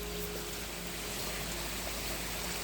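A forest stream runs steadily where it empties into a river among washed-down nikau palms, a constant close wash of flowing water with no talking over it.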